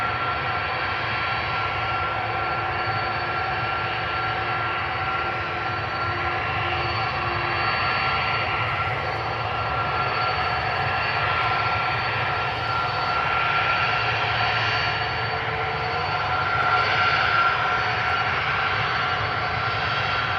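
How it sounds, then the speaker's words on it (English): An 18-year-old Delta Air Lines Airbus A330-300 bound for Seattle builds jet engine roar on its takeoff roll at Schiphol's Polderbaan, a continuous loud rumble with whining tones that swells slightly toward the end. "Delta Airlines Flight 143 going to Seattle, Washington. A330-300, 18 years old"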